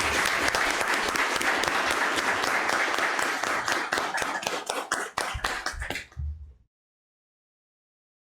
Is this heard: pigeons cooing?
no